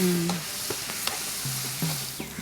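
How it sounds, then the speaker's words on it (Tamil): Onion paste sautés in a pan, a loud, steady sizzle with occasional stirring scrapes and clinks, close up and without talk. "வெங்காய விழுது மிதமான சூட்டில் நம்ம வந்து நல்லா வதக்கிக்கணும்"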